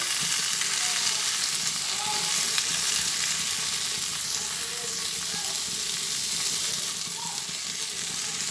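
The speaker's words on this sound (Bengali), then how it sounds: "নুন দিয়ে আবার ভালোভাবে নাড়াচাড়া করে ভেজে নিচ্ছি" Sajna drumsticks and potatoes fry in a pan with salt, giving a steady, close sizzle that fills the whole stretch with faint stirring scrapes and no talk.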